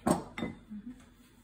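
A spoon or whisk scrapes and clinks against a bowl while all-purpose flour is worked into eggless strawberry cake batter: two sharp strokes, then softer, fainter scraping, close by with no talk.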